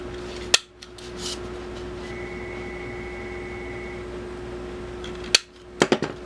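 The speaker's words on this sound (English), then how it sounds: "One more time we're going to punch." A hole punch bites through folded paper while making a Halloween cracker: one sharp snapping clunk near the start, another after a quiet stretch, then a quick cluster of three more clicks, under a soft background hum.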